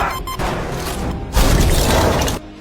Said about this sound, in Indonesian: Menyebabkan tangki oksigen meledak.